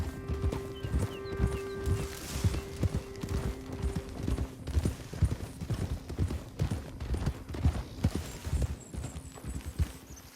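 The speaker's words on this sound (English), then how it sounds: "Get a hold of that horse, will you?" Horse hooves clip-clop steadily in Red Dead Redemption 2, a close, rhythmic run of thuds over a low tonal hum, with no talk.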